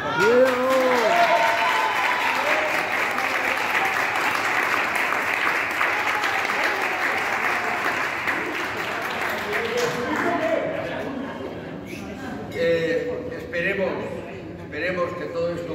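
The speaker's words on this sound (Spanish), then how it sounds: "Yo les pediría primero un gran aplauso por esa partida" A crowd applauds after a pétanque match at a Monzón–Segur tournament, sustained clapping for about ten seconds beneath voices, then tapering off as talk continues over scattered claps.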